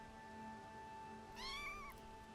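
A Minecraft cat lets out a single rising-and-falling meow partway through, clear and close over a steady tonal game background hum.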